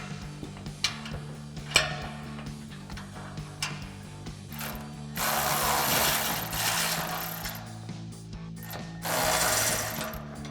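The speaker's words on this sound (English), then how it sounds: "we're going to switch back to our 14 mil swivel socket on our ratchet and tighten down those 3" A ratchet with a 14 mm swivel socket tightening bumper mounting bolts for a bull bar, quick clicking strokes at first, then two longer bursts of dense rapid ratcheting, close and fairly loud.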